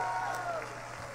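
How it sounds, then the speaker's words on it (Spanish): A crowd at a drag competition's grand final claps in a dense burst of applause, with some cheering mixed in beneath an overlapping voice. "Un fuerte aplauso para todos ellos."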